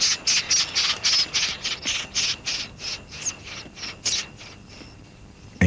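Acorn woodpeckers call at a nest in burnt tree stumps after a fire, giving a rapid series of about twenty harsh, nasal squawks in a steady rhythm, close and loud, which thin out and fade at the end.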